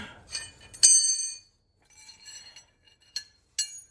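Sharp metallic clinks and a ringing clank from a wrench cracking loose the drain plug on a 2019 Hyundai Ioniq reduction gearbox. Several brief close strikes are separated by short pauses, with no voices.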